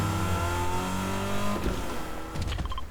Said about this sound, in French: Ah, le véhicule. Sympa le véhicule.